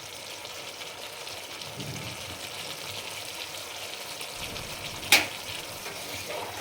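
Bengali cauliflower do pyaza curry fries in a pan with a steady, close sizzle throughout, and one brief, sharp clink of a utensil against the pan as it is stirred.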